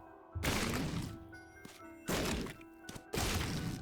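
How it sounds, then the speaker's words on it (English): Bombs go off in The Binding of Isaac, three heavy muffled blasts in quick succession over the game's music, each a loud, thick thud that fades briefly before the next. "bomb these."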